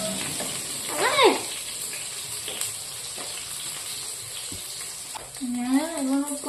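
Potatoes fry in a pan for a potato-and-hotdog dinner, giving an even, continuous sizzle close by, while a voice breaks in briefly near the start and again at the end.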